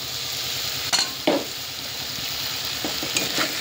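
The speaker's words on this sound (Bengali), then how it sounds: "ভালো করে কষিয়ে নেব যতক্ষণ না কাঁচা গন্ধটা চলে যায়" Spice masala sautéing in a pan with fried onions, ginger and garlic, a steady sizzle throughout with a few scraping stirs of a spatula, close and alone without talk.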